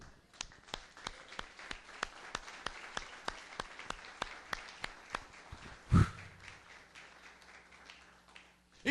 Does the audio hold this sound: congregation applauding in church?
yes